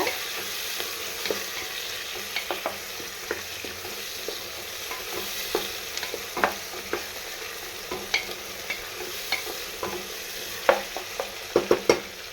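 Tomatoes sizzle and fry steadily in a pan while a spoon stirs them, with scrapes and taps against the pan scattered throughout and no talking.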